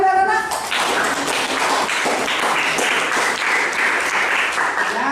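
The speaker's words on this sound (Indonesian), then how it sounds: "Tepuk tangan juga anak-anak." A group of schoolchildren at a junior high school applaud in a classroom after a short spoken bit at the start, producing dense, lively clapping that stays loud and even to the end.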